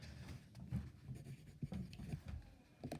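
Pen or pencil writing on paper, a faint close scratching with short irregular strokes over a few seconds.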